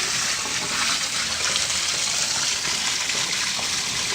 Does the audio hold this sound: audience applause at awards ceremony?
no